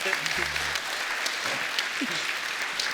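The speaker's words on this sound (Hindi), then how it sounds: "इनके लिए जोरदार ताली" Studio audience applause on a comedy talk show fills the clip, a steady wash of clapping with a brief tonal sound near the start.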